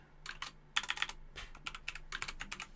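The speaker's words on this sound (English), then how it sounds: "If I can type properly," Quick bursts of keystrokes on a computer keyboard while coding a PHP registration form, clustered clicks in uneven runs with short pauses, close and fairly quiet.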